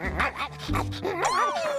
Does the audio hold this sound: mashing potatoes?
no